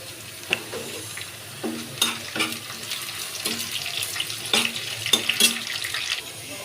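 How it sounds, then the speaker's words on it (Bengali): Dry red chillies frying in hot oil for a tempering, crackling and sputtering in sharp bursts close by, with quiet clinks and stirring between the pops. "এখন দিয়ে দিব শুকনো মরিচ,"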